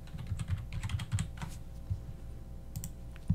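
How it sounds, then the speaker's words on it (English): Quick bursts of typing on a computer keyboard while entering a font name, irregular clacky keystrokes in short clusters, close and fairly quiet, with no talking. "So we're gonna type in Simplicity up at the top"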